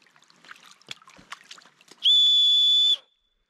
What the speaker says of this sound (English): The new Adventure Agent backpacks that are in stock right now, they come with a whistle here.